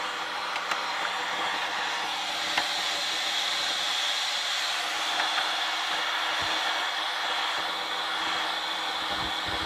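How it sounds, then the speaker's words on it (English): A vacuum cleaner runs steadily nearby with a continuous high whining hiss and airflow roar. The tone stays even throughout, with a few faint clicks and no talking. "I like this vacuum. It does a good job."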